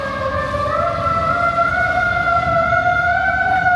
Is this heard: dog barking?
no